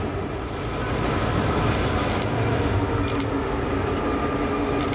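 A CSX local freight train, LO-77, rolls steadily through Rigby Yard with a continuous low rumble of railcars and wheels and a few brief metallic clicks, fairly close and with no voices.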